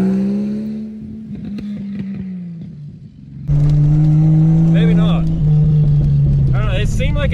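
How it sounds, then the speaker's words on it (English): A car engine running on vodka instead of gasoline sputters and bogs down, then revs up loudly and unevenly, close by, while people talk over it. "It was like sputtering and bogging down a little bit"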